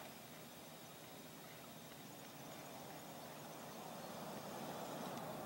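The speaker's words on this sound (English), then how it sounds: "A little bit of road noise, but it's not a really high traffic road or anything." Steady broadband hum of distant road traffic at a free campsite on Snowbird Mesa, Nevada, near a highway, continuous and fairly faint with no voices, swelling slightly toward the end.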